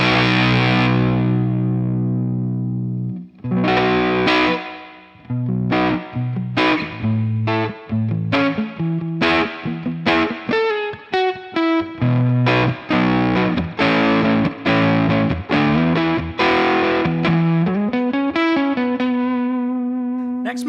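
Electric guitar through a drive pedal in an indie rock rig, a mildly saturated phrase of picked notes and chords, steady and loud with a sustained final note, no talking.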